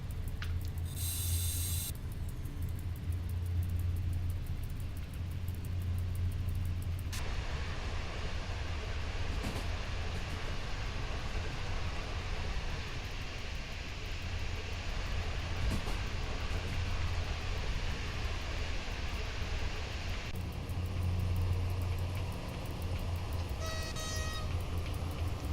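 A SimRail passenger train slowing toward a station stop, with a steady low rumble and rolling rail noise throughout, a brief hiss of air brakes near the start.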